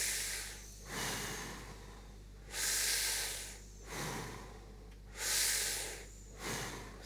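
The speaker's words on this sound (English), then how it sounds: "Now what I want you to do is take 3 sharp breaths, go." A person in a breathing exercise takes a series of sharp, forceful breaths through the nose and mouth, each a close, hissing rush of air separated by short pauses.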